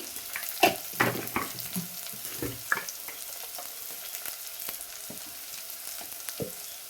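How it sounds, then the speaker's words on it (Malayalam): Shallots and curry leaves sauté in a hot pan, giving a strong close sizzle with bursts of crackling and spatter early on, then easing into a softer steady fry, with no talking. "ചെറിയ ഉള്ളി കറിവേപ്പിലയും കൂടി ഇട്ട് കൊടുത്തിട്ടുണ്ട്. നന്നായിട്ട് വഴറ്റി കൊടുക്കാം."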